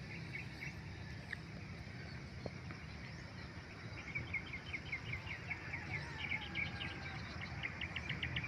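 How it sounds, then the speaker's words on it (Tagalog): Birds chirp and trill faintly at a distance over a rural corn farm in the Philippines, with repeated short calls building in the second half above a soft outdoor hiss. "marinig mo dito mga idol yung mga huni ng ibon."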